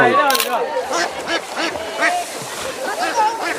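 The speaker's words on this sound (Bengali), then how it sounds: "এবার কাছে হাঁসটা পাইছে এইটা কিন্তু একটু বড় আছে" A large duck quacks in loud, repeated bursts during a traditional village duck-catching game in water, with splashing and excited voices shouting close by.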